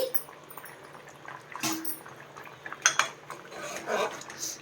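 Jaggery dropped into a pot of Nellore-style mango pulusu and stirred, giving metal spoon-on-pot clinks and scrapes with a few sharper knocks, fairly close over low background noise.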